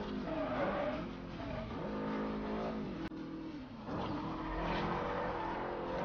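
Car engine revving and accelerating in the racing video game Forza Horizon, a steady loud motor drone with rising and falling pitch over a music bed, no talking.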